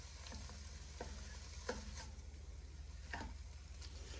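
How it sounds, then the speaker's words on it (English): Ground beef sizzles steadily in a pan on medium-high heat, with a constant frying hiss and a few soft scraping stirs, heard alone. "I'm going to put this on medium high and cook my ground beef down first"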